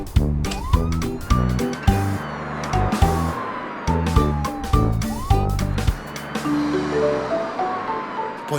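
A cartoon police car siren wails and sweeps in pitch, up close and loud, with repeated rhythmic musical beats of a children's song pulsing underneath.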